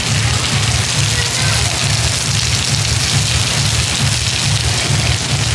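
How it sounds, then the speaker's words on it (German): Steady rain falling in Phuket, Thailand, a dense continuous hiss with a low rumbling undertone, constant and fairly loud throughout with no pauses. "kam auch mal Regen."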